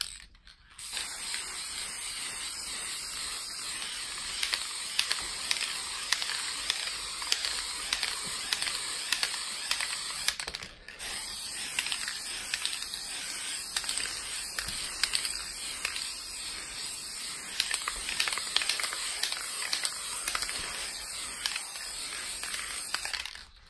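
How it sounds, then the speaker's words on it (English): Fixative sprays from an aerosol can onto an oil pastel drawing: a long, steady, close hiss, a brief pause near the middle, then a second long continuous burst. "so I sprayed that fixative"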